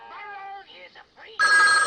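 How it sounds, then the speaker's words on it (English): An old-fashioned telephone bell rings sharply and loudly in a scene from the horror film The Exorcist, cutting in abruptly after a stretch of tonal, voice-like sound. "And then the phone rings, you know, and that caused me to like jump"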